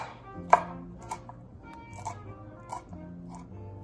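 Kitchen knife chopping garlic on a cutting board, a series of crisp, close, irregular taps and crunchy cuts with one louder strike near the start, heard alone without speech.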